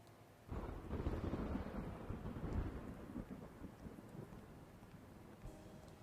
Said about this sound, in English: Even in this rain and thunder.